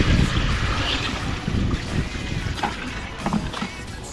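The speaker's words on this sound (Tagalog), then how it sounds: "Oh, maalo na to, amihan eh. Yung hangin. Lakas to." A strong amihan wind blows at sea aboard a small boat, gusting and buffeting loudly against the microphone with water and hull noise mixed in, steady throughout.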